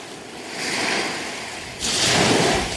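Sea surf rolls onto a shell-strewn beach at Anapa, a broad whooshing wash that swells, eases, then surges louder as a new wave breaks, with no voices.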